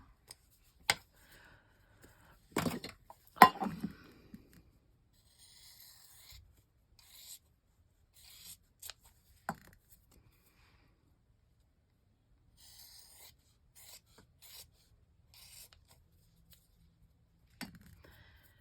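Scattered sharp snips of scissors cutting paper, a few loud clips early on, then softer intermittent rustling and cuts with quiet gaps.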